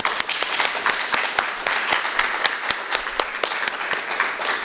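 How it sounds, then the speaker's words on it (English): A small audience at a university Ability Awareness Day poetry event claps for the speakers: a modest number of individual claps are distinct and sharp, landing in an uneven, sustained patter over several seconds. "So if we can give them a round of applause."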